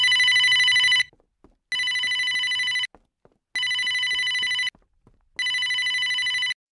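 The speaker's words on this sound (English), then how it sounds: "Hang on. It's the phone." A telephone rings in four long electronic bursts separated by short silent gaps, loud and close, with no voices over it.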